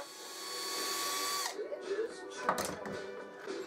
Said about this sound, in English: I drilled a 2mm pilot hole